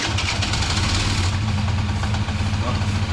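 A Honda Dio scooter engine runs close and loud in a steady, buzzing idle with a fast, even throb throughout.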